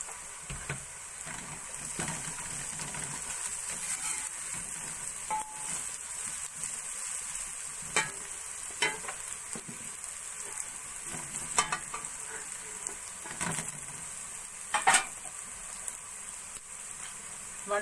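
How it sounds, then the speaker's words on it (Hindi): Green chillies frying in oil in a pan for palak kadhi, a continuous close sizzle with scattered crackles and occasional spatula stirring clinks, no talking. "अब मिर्च को भी थोड़ी देर फ्राई कर लेंगे।"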